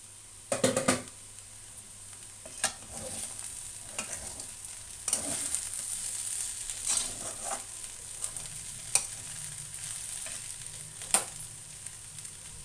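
Diced potatoes for aloo fry sizzle gently in a covered pan over a low flame, a steady soft crackle with a few louder clatters of stirring scattered through.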